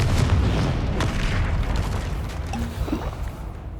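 A Confringo explosive spell blast from Hogwarts Legacy booms loudly at the start and fades into a rumbling tail, with a small pop and crackle near the end.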